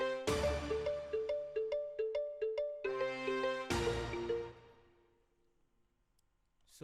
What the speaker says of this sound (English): Let me solo the brass and the hit.